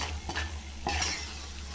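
Turkey berries (sundakkai) being sautéed in a pan until golden, a quiet steady sizzle with a couple of stirring scrapes, brief and without talk.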